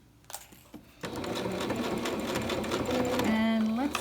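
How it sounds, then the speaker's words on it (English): Sewing machine runs steadily while stitching down the middle of a quilt seam, a close, continuous motor whir starting after a second of handling sounds, with a faint voice in the background. "I'm gonna take my first pin out and sew right along pretty much the middle,"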